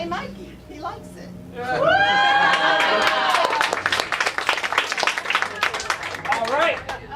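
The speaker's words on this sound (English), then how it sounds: "Judging by your hand claps and general noise, we're going to declare Rich the winner." A theater audience bursts into loud hand clapping and cheering with whoops, sustained for several seconds before thinning into scattered claps and chatter.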